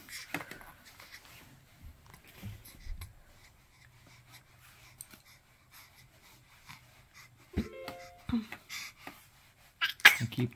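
A single small sneeze sounds near the end of a quiet indoor scene, preceded by faint scattered shuffling and light handling noises, with soft voices briefly present.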